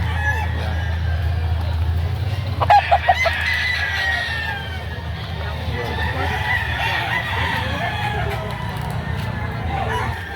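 A ten-month-old Sirama breed rooster at a poultry market in Lipa, Batangas gives one short, loud crow partway through, set against steady low market rumble and background bustle.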